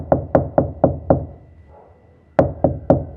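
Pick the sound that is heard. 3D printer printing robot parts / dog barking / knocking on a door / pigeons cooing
knocking on a door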